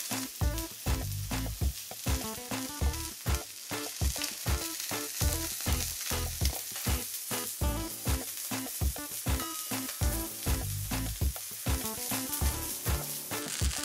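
Trout fillets pan-frying without flour crackle and sizzle loudly and continuously up close, with dense rapid popping spattering throughout and no voices.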